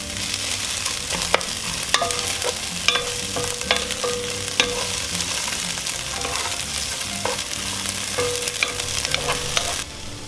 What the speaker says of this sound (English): I want to cook these onions up a little bit first before I do that